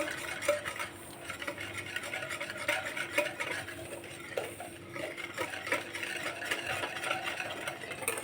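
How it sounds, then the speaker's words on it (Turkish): A litre of milk is stirred into semolina for a chocolate-sauced milk pudding, giving a soft continuous swishing and faint ticking of a utensil against the pot, quiet and close with no voices. "Evet şimdi de yavaş yavaş 1 litre sütümü ilave ederek güzelce karıştıracağım"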